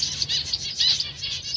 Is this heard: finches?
yes